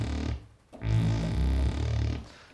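A deep, sustained bass tone with the console channel strip switched off, sounding full and low with a short dip near the start.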